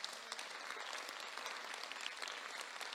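Steady applause from a church congregation fills the space for a few seconds, dense overlapping clapping heard alone at a fairly quiet level.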